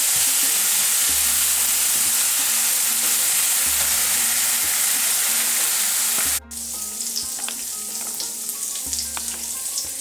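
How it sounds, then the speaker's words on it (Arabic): Butter melting and frying in a pan, a steady close sizzle with crackling that drops slightly in intensity partway through, with faint low clicks and stirring underneath; no talking. "ضفت الزبده نتاعي ها هي دابت"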